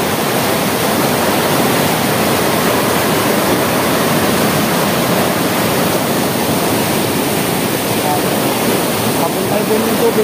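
Strong water flowing at Maranum Falls in Natividad, Pangasinan, a loud continuous close-up roar and hiss of the current that never lets up, with no clear talking.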